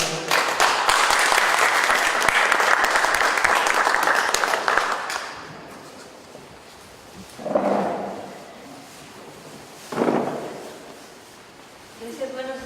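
Audience applause for a woman lecturer at a Mexican cultural seminar on a meteorite impact, a dense steady clapping for about five seconds that then fades, followed by a few isolated louder claps or knocks.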